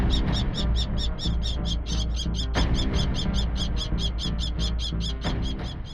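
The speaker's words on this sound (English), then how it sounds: "After a fierce clash, the kestrel forces the owl into a corner" A kestrel and an owl clash in a fight. Rapid, evenly spaced shrill calls ring out loudly in a steady rhythm, with a few sharp knocks underneath.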